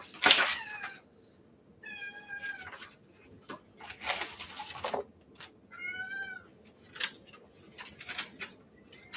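A house cat meowing repeatedly, several clear, fairly close plaintive meows at irregular intervals with small rustling sounds between them.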